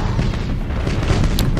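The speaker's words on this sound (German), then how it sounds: "Dann kann ich meine Nova-Kanone schießen." A nova cannon fires in the space battle game Battlefleet Gothic Armada, a deep, sustained rumbling boom that fills the whole moment without a sharp break, loud and alone.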